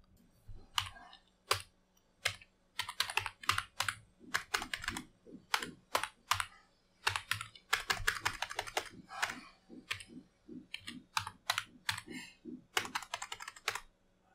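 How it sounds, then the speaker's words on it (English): Close, crisp typing on a computer keyboard: bursts of rapid key clicks separated by short pauses, with no talking. "this is what happens when we start typing"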